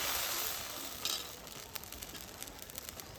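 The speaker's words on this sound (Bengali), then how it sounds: "এক হাতা ব্যাটার আমি দিয়ে দিচ্ছি" A ladle of rice batter for chitoi pitha hits an oiled pan with a bright, hissing sizzle that starts strong, then eases into a softer simmer dotted with small crackles and pops, heard alone.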